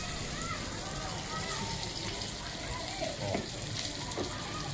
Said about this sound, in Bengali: আমরা হচ্ছে সসেজগুলো একটু ভেজে নেব।